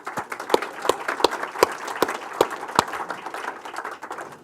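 Scattered applause from a small audience at a talk on managing growth in Auckland, with individual claps standing out in a loose rhythm, moderately loud and fading slightly toward the end.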